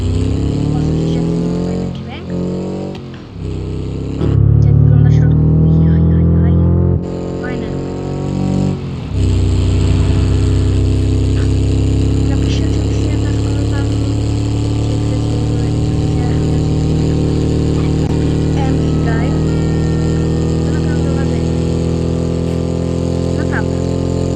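A car engine in BeamNG.drive drones loudly and continuously, idling and revving with a couple of brief cuts early on, then holding a steady harmonic growl, with a person talking over it.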